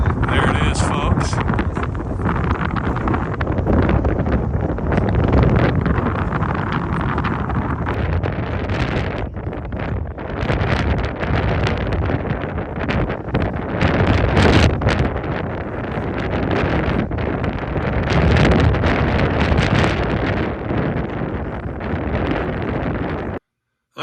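Strong wind blusters across an open wind farm in Maroa, Illinois, battering the microphone with loud, continuous rumbling gusts that rise and fall throughout, ending abruptly.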